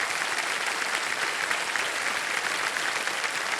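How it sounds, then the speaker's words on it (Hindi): A studio audience at the quiz show Kaun Banega Crorepati breaks into loud, sustained applause, a dense even clatter of many hands clapping continuously with no talk over it. "एक बार जोरदार तालियां बज जाए हिमांशु जी के लिए।"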